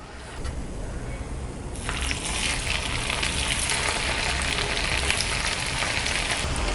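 Aval vadai, flattened-rice fritters, frying in hot oil, giving a steady dense sizzle that swells louder partway through and then holds, close up with no talking.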